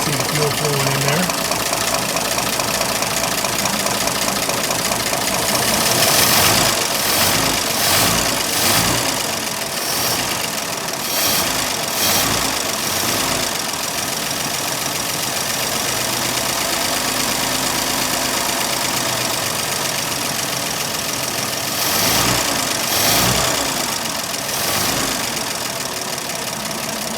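A 1926 Oakland car engine runs and idles with a steady mid-pitched rumble and some knocking, loud and continuous for the whole stretch, with people talking over it.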